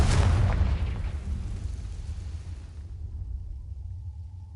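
A Confringo blast spell in Hogwarts Legacy goes off with a loud, heavy explosion right at the start, then a long low rumble that slowly dies away.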